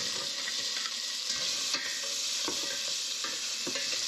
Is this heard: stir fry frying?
yes